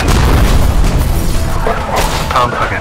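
A bomb planted at a playground in a thriller film goes off in a loud, deep boom that rumbles continuously through the moment, with voices faintly audible beneath the blast near the end.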